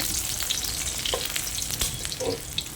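Chopped garlic frying in a hot pan for Thai sweet and sour shrimp stir-fry, a steady close sizzle with occasional scraping stir strokes, no talk.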